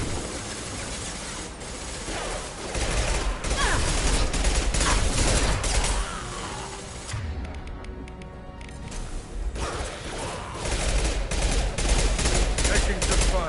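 Heavy gunfire in the Mass Effect 2 sci-fi shooter, loud dense rattling bursts with mechanical clatter over a busy combat mix, a short lull midway before firing resumes.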